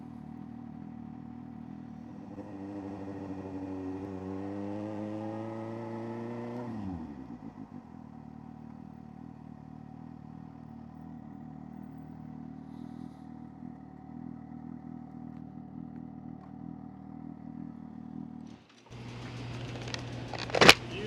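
Suzuki motorcycle engine idles steadily, revs up with a rising whine for a few seconds, then drops back to a low idle before a sudden clattering burst near the end.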